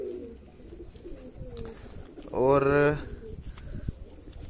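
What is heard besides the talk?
Madrasi and desi cross pigeon cooing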